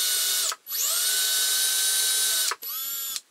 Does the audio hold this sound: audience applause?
no